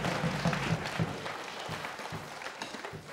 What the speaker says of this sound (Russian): А мы аплодируем ветерану войны Михаилу Ивановичу.